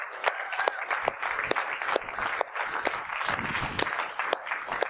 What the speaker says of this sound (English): Give him a big hand clap this morning.